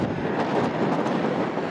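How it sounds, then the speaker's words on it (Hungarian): Strong wind roars steadily across the microphone outdoors during a bicycle tour through Slavonia, a dense rushing buffet with no break. "Hú, de fúj a szél!"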